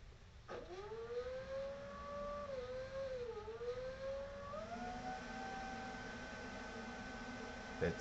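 Nitro Planes F-86 RC jet converted to a 120mm electric ducted fan, running steadily at low throttle, its whine rising and dipping slightly before holding a loud, even whirring tone with broad rushing air noise.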